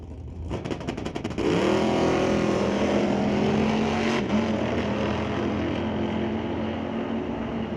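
Loud, sustained roar of drag-racing engines as a Ford Coupe and a Dodge Dart launch down the strip, with engine pitch climbing and holding steady after a burst of rapid pops at the start.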